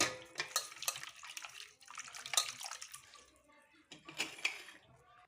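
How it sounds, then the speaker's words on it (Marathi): Water splashes and runs as a quarter kilo of raw chicken is washed in a kitchen, coming in uneven bursts of sloshing and trickling with short quiet gaps. "थोडंसं असं पाणी घालून धुवून घ्यायचं"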